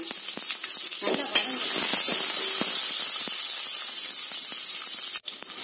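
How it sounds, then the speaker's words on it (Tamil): Garlic, small shallots and broken dry red chillies sizzle steadily in hot oil while being sautéed for a sprouted horse gram gravy, a loud continuous frying hiss with light stirring scrapes and no talk. "தாளிச்சு போட்டு நல்லா வதக்கி விட்டுருங்க"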